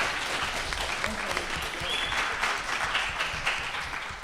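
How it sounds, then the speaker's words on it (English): Audience applause at a university student government senate session and debate, steady dense clapping filling the room for several seconds. "Genuinely. Round of applause."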